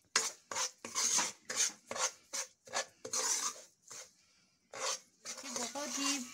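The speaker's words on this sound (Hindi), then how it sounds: "आपने सूजी को तब तक भुनना है जब तक कि ये इसमें से अलहदा से घी छोड़ ना दे" Semolina roasting in ghee in a pan, heard as scraping and rasping strokes of a spoon against the metal, in short irregular bursts separated by brief pauses.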